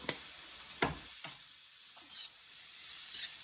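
Onions sauté in oil in a pan, a soft continuous sizzle broken by a few sharp scraping stirs near the start, close and fairly quiet with no talk.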